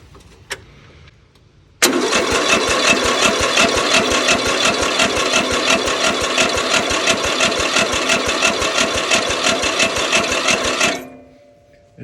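A worn, gravity-fed riding lawn mower engine cranks and catches after a brief quiet lead-in, then runs at a loud, rapid, close idle for about nine seconds before cutting off and winding down.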